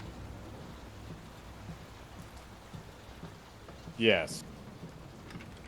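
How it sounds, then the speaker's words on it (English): Steady rain from a storm in the horror game Layers of Fear hisses in the background, broken by a short sharp sound near the end, while a voice speaks briefly. "Will this storm ever run out of rain?"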